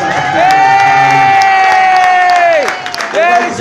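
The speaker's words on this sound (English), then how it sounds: "Let's give her a big round of applause" A party crowd at an 18th birthday celebration lets out a loud, sustained cheer lasting a couple of seconds. It fades, then a second burst of whooping follows close by.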